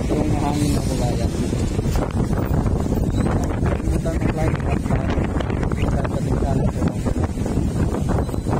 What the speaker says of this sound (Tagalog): Malakas yung hangin mga babayan.